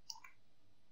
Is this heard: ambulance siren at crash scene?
no